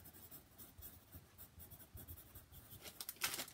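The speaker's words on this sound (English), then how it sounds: "I'm going to write them down here." Pen scratching names onto paper during a live giveaway, a quiet steady patter of writing strokes that ends in a few brisker scribbles and taps.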